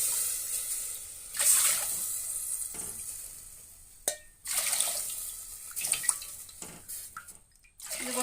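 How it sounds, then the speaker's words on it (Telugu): Water, four cups, is poured into a pan while making wheat rava kesari, heard as a soft hissing splash in several short bursts, fairly quiet and close, with small clinks between pours. "ఇదిగోండి, 4 కప్పులు వాటర్ పోసాను."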